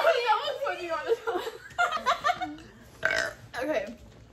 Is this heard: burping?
yes